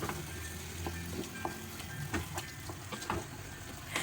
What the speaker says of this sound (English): Time to add the beef cube, the tomato paste, and the chopped tomatoes